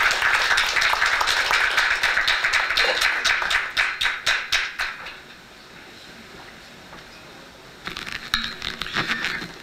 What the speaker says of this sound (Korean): 많은 박수로 부탁드리겠습니다